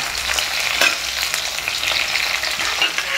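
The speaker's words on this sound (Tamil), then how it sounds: "ஒரு சைடு வந்து லைட்டாக ஃப்ரை ஆகிட்டு நம்ம திருப்பி போட்டுக்கலாம்." Cauliflower pieces fry in hot oil in a pan and get turned over, giving a steady, close, even sizzle with a few soft scraping clicks and no voices.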